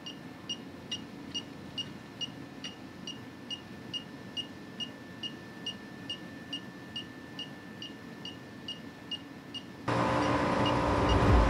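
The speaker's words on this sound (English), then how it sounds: "Once leak is detected, the device beeps 10 beeps per second." Steady electronic beeping from an Elitech WJL-6000 refrigerant leak detector, high and regular, roughly one short beep every half second over quiet background hum, joined near the end by a louder broadband rush.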